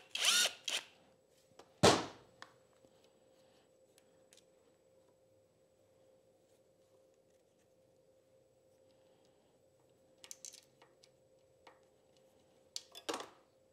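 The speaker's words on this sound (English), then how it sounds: "I think we'll just go ahead and pop this banjo bolt as well." Wrench work loosening a banjo bolt on a Kawasaki KD175 motorcycle engine, heard as a few sharp metallic clicks and clanks near the start and end, separated by a long quiet stretch with a faint steady hum.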